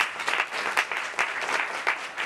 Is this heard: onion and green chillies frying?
no